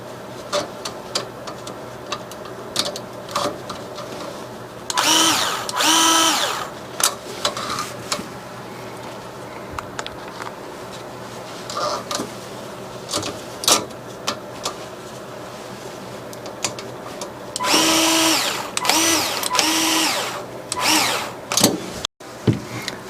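A power driver with a hex bit fastens bolts while a metal freeze-protection heater is fitted to a recessed fire hydrant pipe. It gives two distinct whirring bursts with a rising motor whine, separated by quieter handling noise.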